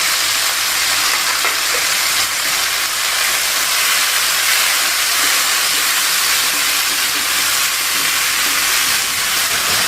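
Spice paste sizzles and fries in a hot pan for a spicy squid with green chili dish, a loud, continuous crackling hiss with no talking.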